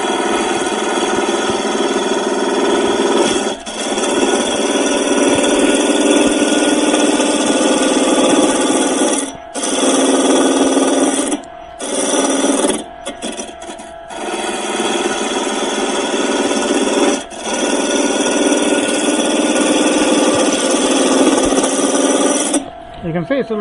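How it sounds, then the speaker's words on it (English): A wood lathe spins fast while a turning tool cuts fine shavings, producing a loud, continuous broadband hiss and whirr up close, broken by a few brief pauses as the tool lifts off. "You can see that the shavings are coming off very much smaller because it's turning faster."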